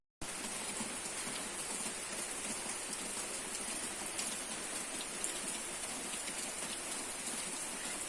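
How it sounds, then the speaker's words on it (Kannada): Monsoon rain pours down steadily and evenly, a dense, constant hiss of drops on surfaces that stays at one level throughout, with no voices. "ನೋಡ್ಬೋದು, ಎಲ್ಲ ಕಡೆ ಮಳೆ ಬರ್ತಾ ಇದೆ ಇಲ್ಲಿ."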